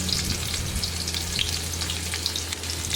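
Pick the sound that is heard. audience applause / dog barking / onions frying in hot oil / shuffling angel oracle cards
onions frying in hot oil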